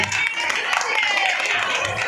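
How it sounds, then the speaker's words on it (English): Audience clapping at a school dance performance, a continuous patter of many hands with some crowd murmur, moderately loud and steady across the whole stretch. "Please clap hands everybody."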